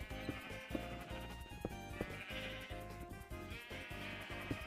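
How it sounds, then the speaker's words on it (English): Sheep bleating in the Cobblemon mod of the Minecraft video game, several repeated bleats over continuous game background music, quiet overall. "I hear sheep."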